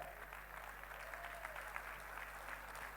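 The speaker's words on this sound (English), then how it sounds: "I'm going to make every dude clap." Men in a marriage seminar audience clapping together, a steady dense patter of applause held at an even level throughout with a low hum underneath.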